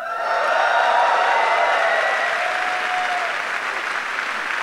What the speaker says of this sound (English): Can you do a big clap?